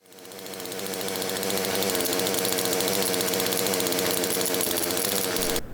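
A chainsaw engine fitted to a Power Wheels RC car starts up and quickly rises to a loud, steady, buzzing run, holding close and strong for several seconds before dropping off abruptly.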